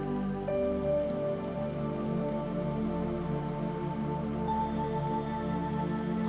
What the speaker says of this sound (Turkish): güzel bir yağmur var